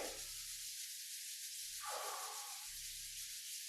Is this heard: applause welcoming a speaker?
no